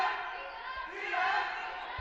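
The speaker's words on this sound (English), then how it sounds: "The crowd's back in it." Crowd at a COD versus Rock Valley women's basketball game, a broad rising roar of cheering voices beneath a commentator's play-by-play, with faint sneaker and ball thumps.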